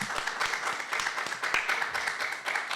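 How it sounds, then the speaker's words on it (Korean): Audience applause following a lecture on Korean mathematics, a dense steady patter of many hands clapping for a few seconds. "다시 한번 큰 박수."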